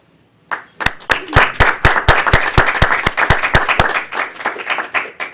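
A small club meeting audience applauds after a speech evaluation, with sharp individual claps standing out in a brisk, fairly close burst that starts suddenly and tapers slightly toward the end.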